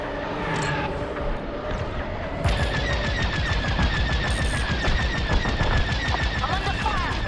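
Rapid blaster fire in Star Wars Squadrons streams out in dense, fast bursts that grow louder partway through, layered over engine roar and voices talking during the fight.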